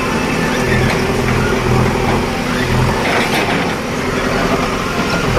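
A JCB excavator breaking up a road amid a long traffic jam, heard as a steady, loud low engine rumble with rough mechanical noise that stays constant throughout, with no clear voices on top.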